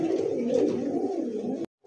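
A pair of domestic pigeons for sale coo softly in a low, rolling murmur, close and steady, before cutting off abruptly into near silence at the end.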